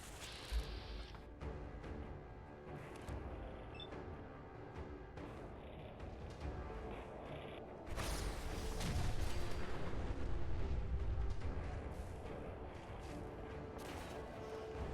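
Fat Man mini-nuke blasts in Fallout 4 set in a ruined post-nuclear Boston, with booming explosions and crashing debris, a heavy rumbling surge swelling midway over a dense, chaotic game soundscape.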